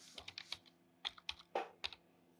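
Typing on a computer keyboard: a short run of close, light key clicks in uneven bursts over a faint steady hum.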